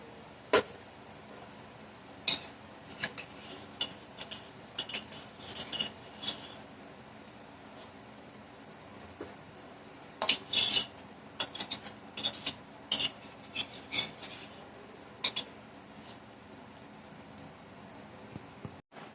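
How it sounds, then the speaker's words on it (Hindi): Fried semolina biscuits lifted one by one from a kadhai, giving scattered light scraping and metallic clinks at irregular intervals, close and fairly quiet, with no talking. "सारे बिस्किट जो है हम कढ़ाई में से निकाल लेते हैं।"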